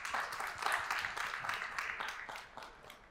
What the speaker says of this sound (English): one more round of applause for Power Up